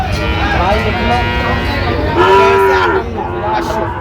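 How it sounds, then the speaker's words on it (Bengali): A Sahiwal bull at a livestock market in Sylhet gives a loud, close, drawn-out moo, with people talking around it. "দেখি কেমন দামে সেরা মানের গরুগুলো মোমিন ভাই আজকে কালেকশন করলেন"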